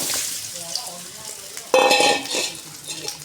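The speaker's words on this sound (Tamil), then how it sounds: "வானலில் சூடு பண்ணியாச்சு லைட்டாக எண்ணெய் ஊற்றிக்கலாம் சூடானதும் தூள் உப்பு போட்ட வாழைக்காய்" Salted plantain pieces fry in oil in a pan, a moderate sizzle with clanks of a utensil against the pan, rising into a louder burst of sizzling and stirring partway through.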